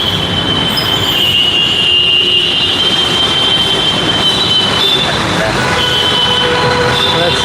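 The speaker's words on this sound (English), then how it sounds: "And this is the metro platform." A metro train passing a station platform, heard as a loud continuous rumble with high metallic wheel squeal and rail clatter filling the whole stretch.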